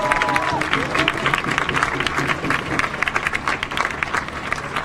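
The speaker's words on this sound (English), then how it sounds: "Let's give Dorian another round of applause." Crowd applause at a solidarity rally in Minneapolis, steady and fairly loud clapping with scattered crowd noise running through the whole stretch.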